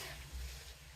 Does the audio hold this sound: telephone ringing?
no